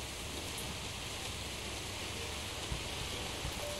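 Steady rain falling along an English country road in the Sherlock Holmes: Secret of the Silver Earring game, a continuous even hiss heard alone with a few faint drops near the end.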